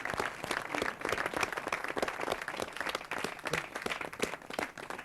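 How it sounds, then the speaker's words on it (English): A studio audience at a British daytime talk show applauds steadily, dense clapping filling the room at moderate loudness without letting up. "I think we deserve another round of applause."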